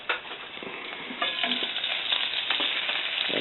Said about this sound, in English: Actually, the bacon's pretty close to being cooked.